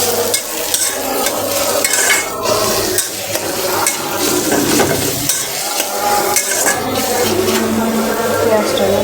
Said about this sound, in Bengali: পেঁয়াজটা ভেজে গেছে, আদা রসুন দিয়ে দেবো।